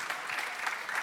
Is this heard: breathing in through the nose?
no